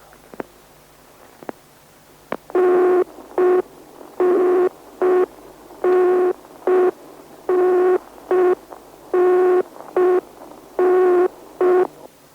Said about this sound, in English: you will hear an engaged tone which may sound like this.